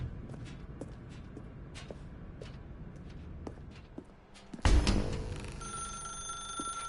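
A telephone rings in a dark room in The Stanley Parable, starting suddenly and loudly about two-thirds of the way in after a stretch of quiet, soft ambient shuffling.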